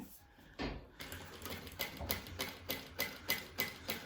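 A Jack H2 walking foot sewing machine stitches in a steady, evenly spaced rhythm of mechanical clacks at close range, starting after a short pause and settling into a regular beat of about three stitches per second.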